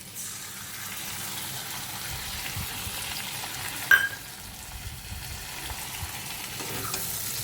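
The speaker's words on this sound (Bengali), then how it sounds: "আলু ভাজা হয়ে গেছে প্রায়" Potatoes frying in a pan at home, with poppy seeds about to go in: a steady, moderately quiet sizzle runs throughout, broken by one brief sharp clink near the middle.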